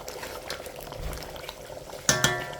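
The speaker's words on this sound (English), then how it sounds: "It's just the beans liquid, and it's already looking so good. I'm gonna let that boil a little bit." Split pea bean liquid boils in a pot for Liberian-style split peas, a soft, steady bubbling heard close by with no talk, ending in a couple of sharp metallic clinks.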